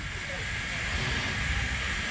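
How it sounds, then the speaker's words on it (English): A full-size steam locomotive on a track gives off a steady, loud broadband hiss of steam that runs unbroken throughout, with no clear speech over it. "A real steam engine on a track."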